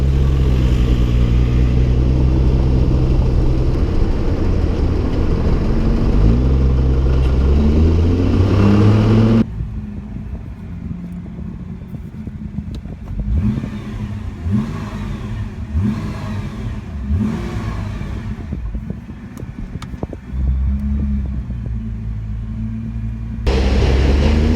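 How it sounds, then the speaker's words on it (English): A 2016 Nissan GT-R N-Attack with a titanium exhaust revs hard and loud, then drops to a burbling idle with repeated blips of the throttle before roaring up again. "Sound of an Attack GTR with the titanium exhaust pipe"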